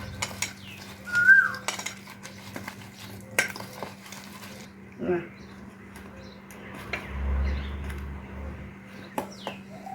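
Chopped neem and gandhal leaves are mixed by hand with gram flour into a fritter batter in a bowl, with scattered clinks of bowl and utensils and brief stirring squelches under occasional talk.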